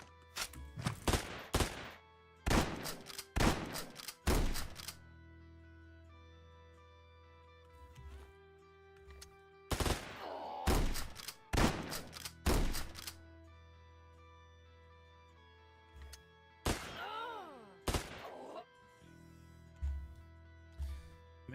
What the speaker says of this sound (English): Do they not hear all the gunfire?